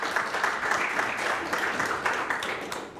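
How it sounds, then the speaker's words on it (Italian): Steady, dense applause from a studio audience on an Italian TV show as a guest singer is introduced, continuous and fairly loud for a few seconds with no talk. "Un applauso."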